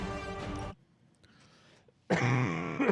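A person coughs and clears their throat in two loud bursts close to the microphone, at the start and again near the end, separated by a quieter stretch of faint background noise.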